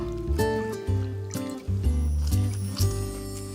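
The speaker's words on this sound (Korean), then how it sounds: "이렇게 해서 물기를 한번 꽉 눌러서 짜주시면 되겠어요" Water is squeezed by hand from blanched greens, producing close, wet squishing and dribbling bursts in a rough repeated rhythm, about five squeezes in quick succession.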